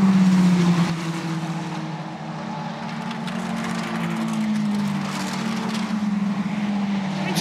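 Formula Ford 1600 single-seaters racing at Thruxton, a steady, loud engine drone with sustained low harmonics as the cars pass close, continuous throughout with no voices.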